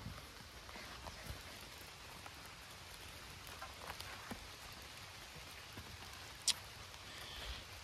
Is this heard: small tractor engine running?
no